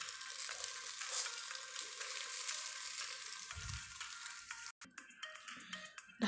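Rohu fish with taro stolons frying on a banana leaf in a pan gives a steady, moderate sizzle that runs on, breaks briefly near the end, then returns with a few louder crackles.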